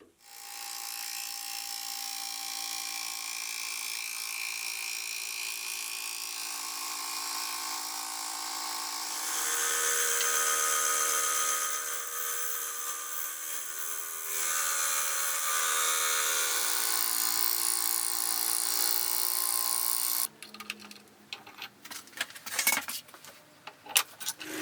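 Fly cutter on a milling machine facing the top and bottom of an aluminium block, a steady high-pitched metallic whine with shifting tone that runs continuously for about twenty seconds, then breaks into irregular clattering cuts, with no talking.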